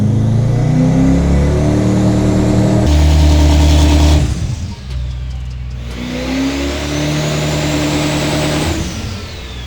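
Mercedes-AMG GT63s fitted with a big turbo, loud and close, rising through hard accelerations with a brief drop and popping stutter between pulls as rolling anti-lag builds boost, then revving up again.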